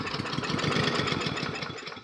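A Briggs & Stratton lawn mower engine with a fuel problem briefly firing as it tries to start, a close, loud, rough sputtering chug of rapid uneven combustion pulses that fades at the end.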